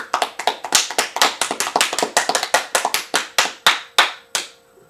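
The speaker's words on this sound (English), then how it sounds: "Let's give a round of applause for my guest, Mr. Robert Dallek." A round of applause for a guest at the close of a news broadcast: a small group clapping in a brisk, uneven patter of separate hand claps that thins out toward the end, close and fairly loud.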